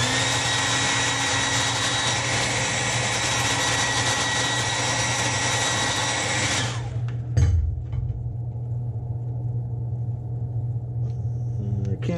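Heat gun blowing steadily to cure Createx candy paint on a holographic crankbait lure, a loud continuous broadband roar that cuts off abruptly partway through, leaving a lower mechanical hum.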